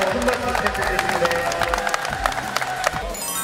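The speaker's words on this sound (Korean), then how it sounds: "다시 한번 큰 박수 부탁드리겠습니다" A crowd claps and cheers at the final of a national amateur handball tournament, a dense, continuous patter of applause with scattered sharp claps, while an announcer speaks over it.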